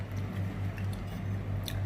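Someone chews a spicy mala stir-fried white shrimp dish, soft wet squishing bites repeating closely at a steady pace, with no talking.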